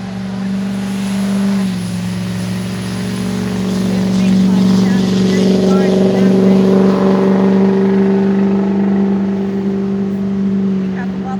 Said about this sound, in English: There's always those people that have to show off how loud their truck is.